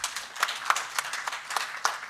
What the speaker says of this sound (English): Another round of applause for Ethiopia